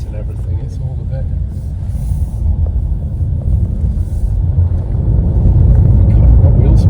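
A Renault 5 electric car accelerates hard with wheel spin, a low rumbling road and tyre noise building steadily while someone talks inside.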